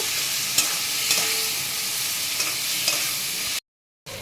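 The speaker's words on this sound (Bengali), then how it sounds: "এবারে আমি মশলাটা ভালো করে কষিয়ে নেব" Spice paste with turmeric and Kashmiri chilli powder sizzles steadily in hot oil as it is stirred and sautéed, with faint scraping stirs over a constant close fry and a brief gap near the end.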